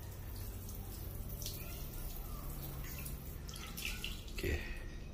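Water spraying from a bidet sprayer on a flexible spring hose with hex head, fed through a newly opened valve; a steady close hiss of spray runs throughout, swelling briefly near the end.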